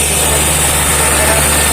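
A tractor engine runs loud and steady in a farm field, a constant close rumble with no breaks and no talking.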